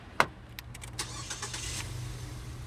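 A 2013 Nissan Versa SV four-cylinder with 20,000 miles runs at a steady idle. It gives a low, even hum close by, with a sharp click at the start and a few light taps over it.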